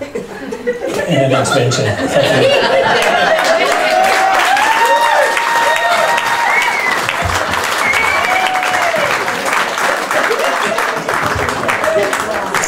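Guests at a birthday quiz and speeches party clap loudly and steadily, with laughter and chuckling rising through the applause and voices calling out over it.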